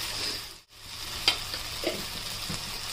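Tomatoes frying in a pan for a moong dal tomato curry give a soft, steady sizzle with light stirring and a brief dip, close by and fairly quiet.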